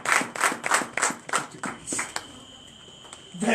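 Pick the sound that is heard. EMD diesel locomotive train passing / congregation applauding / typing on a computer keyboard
congregation applauding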